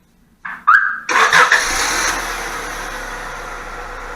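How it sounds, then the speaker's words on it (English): A car engine fired remotely through a smartphone app cranks briefly, catches with a loud rev, then settles into a steady idle heard up close. "the best features of this app is I can remotely start my car from here"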